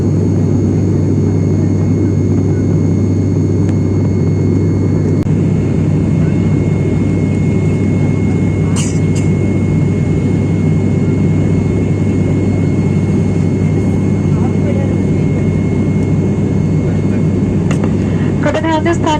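Steady loud droning cabin noise of an Alliance Air ATR-72 turboprop cruising near 13,000 feet, a constant low hum with a persistent tonal whine throughout and a brief faint clatter partway through.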